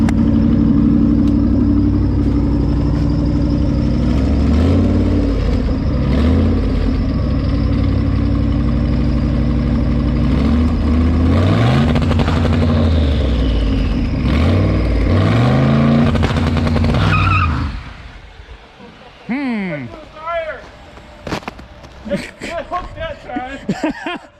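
A car engine holds high revs through a burnout, its loud roar rising and falling, then cuts off abruptly, leaving quieter engine noise and people talking.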